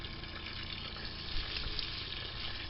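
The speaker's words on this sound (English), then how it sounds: "I'm just watering our pepper plants and tomato plants right now" Pepper and tomato plants being watered, a steady close hiss of running water spraying onto leaves and soil, continuous and fairly even with no talking.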